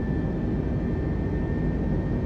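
Airbus A320 jet engines climb out of Brussels in Flight Simulator 2020, a steady, moderately quiet broadband roar with a faint constant whine on top, uninterrupted and with no talking.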